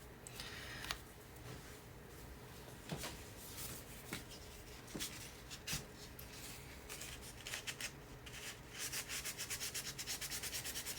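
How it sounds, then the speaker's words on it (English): Hand sanding of small wooden pieces for a 4th of July bench insert, a steady scratchy rubbing with repeated strokes that speed up into a quick rhythmic run near the end, close and fairly quiet with no talking. "I need to sand these pieces a little bit"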